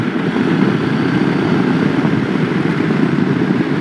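A QJ Motor SRT900SX, a 90-horsepower motorcycle, pulls hard in fourth gear out of a bend, its engine a steady, dense rumble from close by with wind noise and no voices.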